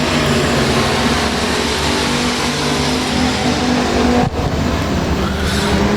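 Factory stock race cars roar through a heat race at Rose Bowl Speedway, a loud, continuous blend of engines heard from trackside with one brief dip, and no voices.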